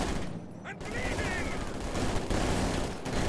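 Machine-gun fire in the World War II strategy game Company of Heroes 2, a steady rattle of bursts mixed into battle noise, with a voice speaking over it.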